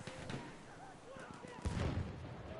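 Battlefield explosions and artillery-like blasts in an online multiplayer shooter match, with a rumbling boom swelling midway over continuous distant gunfire and crackle.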